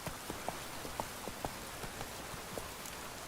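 Steady rain in The Witcher 3 hisses and patters on a surface, with scattered individual drops standing out. The sound is constant and even, with no voices.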